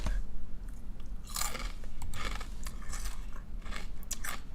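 Crunchy food chewed close to the mic, with repeated crisp bites and crackling chews at an irregular rhythm over a low steady background hum.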